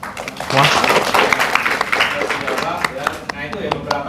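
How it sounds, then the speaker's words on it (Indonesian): Scattered clapping breaks out in a teaching session, mixed with lively overlapping voices, loud and close, with the claps thinning into sparse individual hits toward the end. "Tepuk tangan dulu buat semua"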